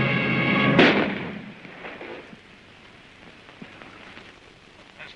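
Gunfire in the old H. G. Wells science-fiction film Things to Come: a single sharp, loud blast near the start, followed by a fading rumble and scattered faint crackles and distant shots.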